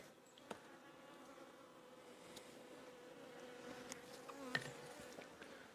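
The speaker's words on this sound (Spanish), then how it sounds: "es impresionante la cantidad de avispas que hay" Steady insect buzzing with a droning hum, several wasps flying close by, with occasional faint clicks and no talking.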